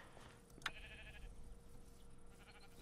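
A sheep bleats in the Minecraft video game, one short, fairly clear bleat over a quiet, low background hum.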